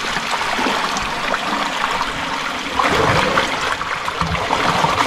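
Water flows out in a steady rushing, trickling stream, close and fairly loud, with a brief surge about halfway through and no clear talk over it.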